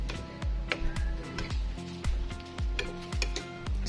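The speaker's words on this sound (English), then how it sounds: "Just mix it until the chocolate is completely melt." Melting chocolate filling stirred in a pot, with repeated scraping strokes about every half second and faint ticking clinks of the utensil, close and without talk.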